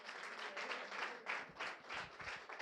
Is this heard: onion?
no